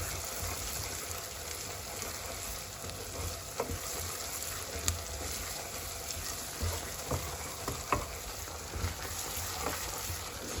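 A Nigerian jollof rice base fries in a pot and is stirred, giving a steady close sizzle with scattered scraping knocks from the spoon; no voices.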